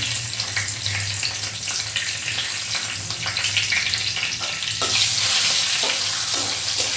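Cardamom, cloves, cinnamon and bay leaf fry in oil as the spice base for a Bengali chicken rezala, a close, steady sizzle broken by stirring scrapes that grows louder near the end.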